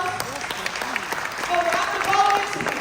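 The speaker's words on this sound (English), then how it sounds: "So give them a huge round of applause." An audience at a city budget town hall claps in a short, thinning round of applause, with voices and talk mixed in over the scattered hands.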